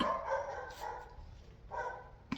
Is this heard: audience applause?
no